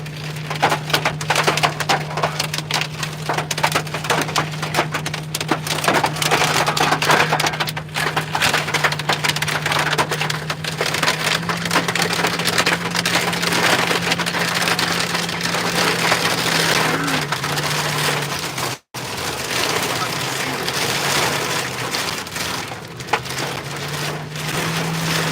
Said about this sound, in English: we're getting a hailstorm now.